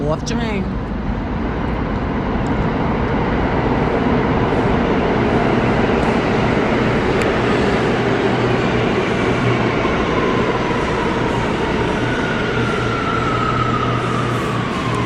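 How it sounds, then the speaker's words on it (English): A subway train, the fourth train, rumbles loudly and steadily nearby, wheels grinding with a rising screech of brakes as it pulls into the station, a voice faintly under it. "here come the next train. Fourth train."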